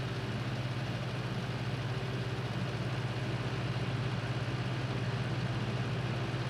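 A T4 yard tractor in Farming Simulator 19 runs with a steady, even engine drone, heard close and constant with no talking.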